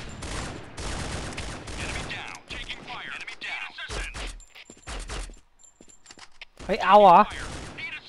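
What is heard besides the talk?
gunfire in the video game Point Blank Strike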